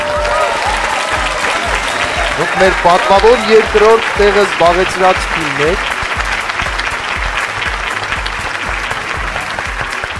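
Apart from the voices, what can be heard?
audience applause for second-place team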